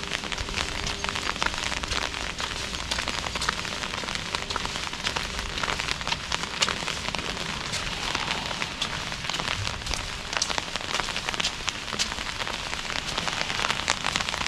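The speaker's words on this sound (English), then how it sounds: "Still kind of a light to moderate rain." Light to moderate rain falls steadily and densely on surfaces at a ski area in Zakopane, a continuous hiss of drops with no voices.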